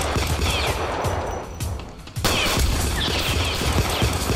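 Rapid gunfire in a Roblox New York hood roleplay game, dense bursts of close, loud shots that stop briefly before a sharp burst resumes and continues steadily to the end.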